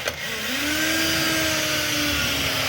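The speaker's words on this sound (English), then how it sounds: "screw up the side to the bottom through the pre-drilled holes that we" A power driver runs a screw through a pre-drilled hole, joining a wardrobe side to its base during a loft alcove wardrobe fit. One steady whine climbs slightly in pitch, close and loud, with no talking over it.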